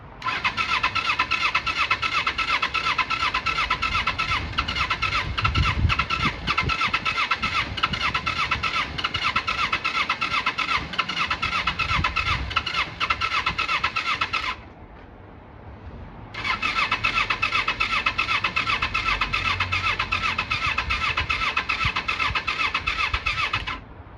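A Kawasaki Eliminator EL 250 motorcycle engine runs steadily and loud up close with a bright, buzzing tone, cutting out briefly near the middle before catching again and running on to the end.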